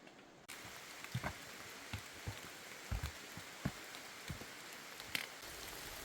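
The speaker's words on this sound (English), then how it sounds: "It started raining and it's pretty heavy rain." Heavy rain falls on the Appalachian Trail, a steady broadband wash with scattered louder drops and taps striking nearby surfaces, fairly close and continuous.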